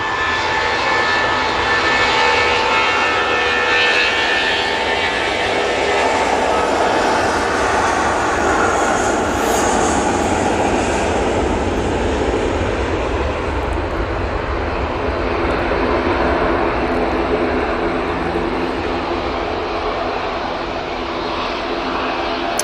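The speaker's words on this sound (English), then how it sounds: "Nige touching down, and Nige going out, double Nige." Airliners land and take off at Manchester Airport, with a loud, continuous jet engine roar that swells and fades slightly over a long stretch, heard from a nearby plane spotting position.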